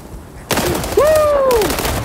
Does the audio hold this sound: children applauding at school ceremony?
no